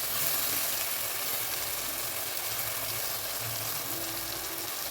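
Cut broad beans deep-frying in oil in a pan for tamarind curry, a steady close hiss and crackle of sizzling with no breaks and no talking.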